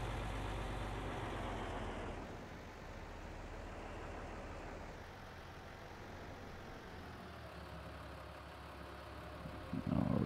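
A tractor engine in Farming Simulator 22 drones steadily at a low, heavy idle-like rumble for about ten seconds, shifting slightly in tone partway through, with a brief louder knock near the end and no voices.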